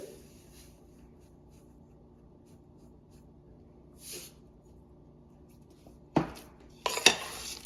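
A spoon stirs and mixes cooked rice with salt in a pot for curd rice, mostly quiet with a few soft scrapes, then clustered clatters of utensil against the pot near the end.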